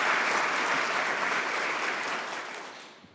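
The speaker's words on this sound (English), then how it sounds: "So a huge round of applause" Audience applause at a Python conference lightning-talk session, a dense, steady round of clapping that holds for a few seconds and then tapers off.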